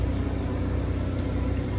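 A propane generator aboard a 2023 Coachmen Prism 24FSC RV runs with a steady, close, low rumbling hum and an even whir throughout.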